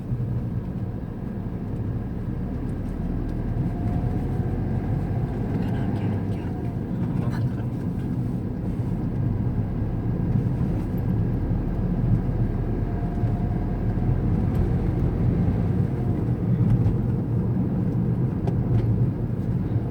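A long queue of road vehicles in heavy traffic near Patia Square in Bhubaneswar, Odisha, gives a continuous low rumble of idling and creeping engines. Faint horn-like tones and scattered clatter rise now and then above the steady hum.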